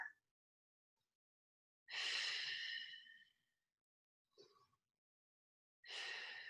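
Deep breaths taken while holding a yoga conditioning pose: two long, breathy exhales a few seconds apart with a short softer breath between them, close and alone in a quiet room.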